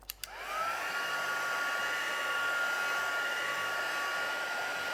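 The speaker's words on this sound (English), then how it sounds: "get our heat gun out" A heat gun melting embossing powder on a card: after a couple of faint clicks it starts up into a steady, loud blowing whoosh with a high whine, running continuously on its own.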